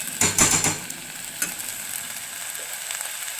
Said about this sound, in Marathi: तांदूळ पण थोडेसे आपण परतवून घेणार आहे।